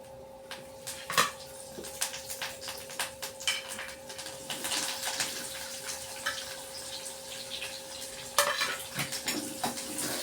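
Food frying in oil, an even sizzle close by, punctuated by clinks of utensils against a pan and occasional scraping stirs.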